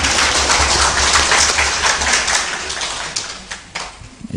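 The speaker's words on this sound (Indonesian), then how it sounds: "Tepuk tangan untuk kita semuanya." Audience applause in an SMK school gathering in Central Java, a dense, steady wash of many hands clapping that thins and tapers toward the end.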